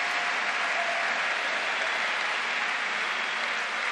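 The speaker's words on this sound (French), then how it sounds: "le spectacle est applaudi par tous les spectateurs" Spectators at a Pro B table tennis final between Félix Lebrun and Lilian Bardet applaud a point with dense, even clapping that stays loud and steady throughout.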